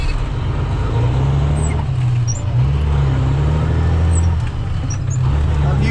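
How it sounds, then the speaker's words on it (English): A truck engine drones steadily nearby, its revs easing and settling as gears are floated without the clutch, with low rumbling pitch shifts and faint road noise. "I'm basically letting off the gas, pop it out of gear, and letting the RPMs fall"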